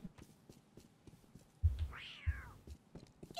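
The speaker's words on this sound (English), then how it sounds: "Kitty cat." A cat gives a single meow, faint and fairly close, over quiet background with soft low thumps.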